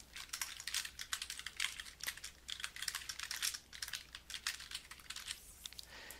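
A computer keyboard clicks in quick, uneven bursts of keystrokes with short pauses as an article title is typed, close and fairly quiet with no talking.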